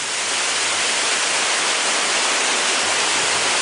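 Waterfall at Aik Berik village on Lombok, surrounded by green vegetation, pouring as a loud, steady, dense roar of water, unbroken throughout with no voices.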